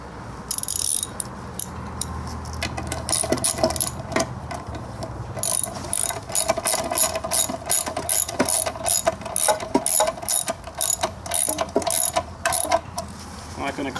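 A hand ratchet cranking bolts on an outdoor bench being rebuilt: rapid, continuous metallic clicking in close bursts with brief pauses, loud and up front.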